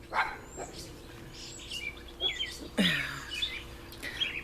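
Several dogs bark outdoors in short, scattered bursts, some close and loud, others farther off, while birds chirp intermittently in the background.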